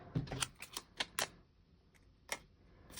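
Scissors cut a paper layering element for a planner journal in half: a quick run of several crisp snips close by, then a pause and a couple more isolated clicks, with no talk.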